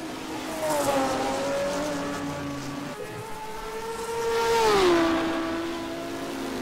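Ferrari and Chevrolet Can-Am race cars at Road Atlanta in 1971, engines wailing as they pass, the pitch climbing and then dropping sharply, loud and steady with a faint commentary voice underneath.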